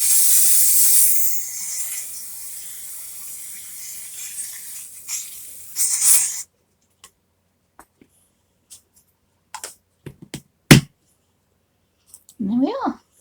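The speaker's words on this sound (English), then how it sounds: "Let's just give it a quick spray." Quick aerosol spray misted over a chalk pastel drawing with a grungy parchment-style background, a steady loud hiss lasting several seconds, then a short burst and scattered faint taps and handling noises.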